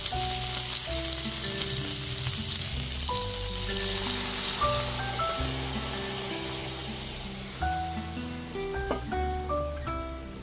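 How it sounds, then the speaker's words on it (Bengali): Boiled mung dal tipped into a pan of fried flat beans and spices, sizzling steadily throughout with soft stirring clatter and no voices; music-like tonal lines run underneath. "এরপর এতে সেদ্ধ করে নেওয়া ডালটাকে দিয়ে দিচ্ছি।"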